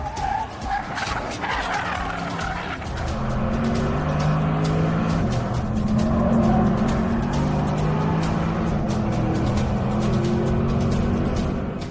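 A Porsche Panamera is driven fast on the Nordschleife, its engine roaring steadily and close with tires squealing as it corners.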